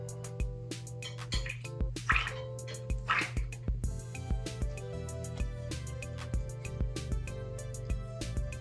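Water rinses a handmade poker chip cut from a golf ball, giving a quiet series of irregular drips and small splashes that rise into a few brief bursts of running water.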